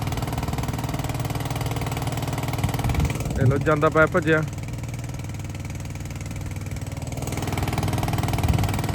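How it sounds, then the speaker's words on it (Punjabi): A petrol engine runs steadily beside a well pit where water collects, a constant low rumble lasting throughout while someone speaks briefly over it partway through. "ਇਹ ਪੈਟਰੋਲ ਇੰਜਨ ਤੇ ਆ ਪੈਟਰੋਲ ਇੰਜਨ ਤੇ ਕੂਈ 'ਚ ਪਾਣੀ ਇਕੱਠਾ ਹੋ ਜਾਂਦਾ"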